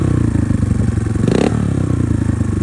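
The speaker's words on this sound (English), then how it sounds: "this Yoshimura exhaust" A Honda Navi motorcycle with a Yoshimura exhaust and spark arrestor idles with a steady, throaty exhaust burble, loud and close, with a brief rise in pitch near the middle.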